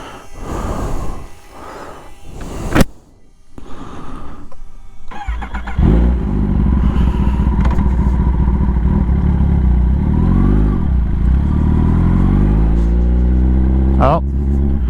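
A Kawasaki ZX10R motorcycle engine starts after a few seconds of nearby talk, then idles loudly and steadily close by, with a sharp blip of revving near the end.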